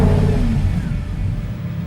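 The Lamborghini Huracán LP 610-4 engine fires and revs, a loud close roar that swells at once then settles into a throaty, slightly wavering run with some clatter underneath.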